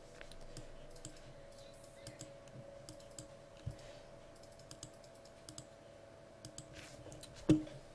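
Faint, light clicks from a computer mouse tap out irregularly against a quiet room hum, ending with one slightly louder click.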